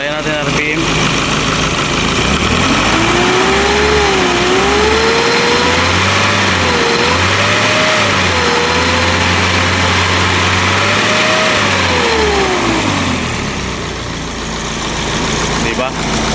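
An Isuzu 4HL1 diesel engine is revved repeatedly, its pitch rising and falling in several long sweeps over a steady clattering idle, loud and close throughout.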